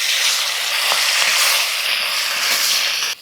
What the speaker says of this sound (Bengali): এখন তো এইরকম করে মাছ ভাজছি